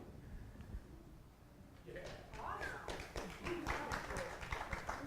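A church congregation breaks into applause for the pastor mid-sermon, with scattered claps building into a steady patter that continues to the end, while a voice speaks over it.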